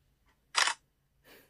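Phone camera shutter fired remotely from a cheap Cospet Prove smartwatch: one short, crisp click-burst, followed a moment later by a softer, quieter second sound, in an otherwise quiet room.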